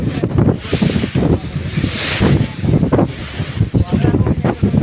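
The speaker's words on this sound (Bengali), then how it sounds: "নদী হচ্ছে অনেক খরস্রোত সেই জন্য হচ্ছে এত বিশাল বিশাল ঢেউ দেখা যাচ্ছে" Large waves on the fast-flowing Meghna river, heard from a launch crossing toward Monpura island: a loud surging wash of water and wind buffeting the microphone, rising and falling in heavy gusts, with talk nearby.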